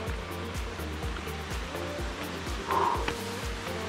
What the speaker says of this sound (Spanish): El camino ya es como un arroyo, así que estamos cruzando por el arroyo.